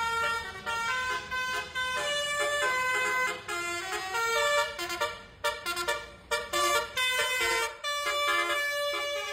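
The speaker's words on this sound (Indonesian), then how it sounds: "Alunan klakson telolet yang khas menggema di lokasi tersebut" A bus's telolet horn plays its melodic tootling in the street in front of shops, with loud, repeated musical blasts and short pauses throughout.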